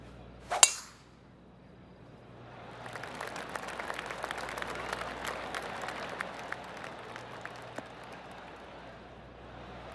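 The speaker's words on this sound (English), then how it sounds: "Oh, golf clap." A soft, scattered patter of polite golf clapping from a small video-game crowd at TPC Scottsdale in PGA 2K25, starting after a sharp click and continuing steadily at moderate distance.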